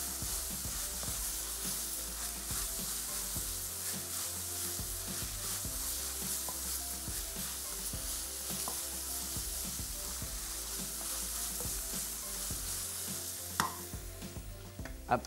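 Minced meat keema fries in a wok, a steady dense sizzle with scraping stir strokes throughout and a couple of sharper knocks near the end, close and continuous.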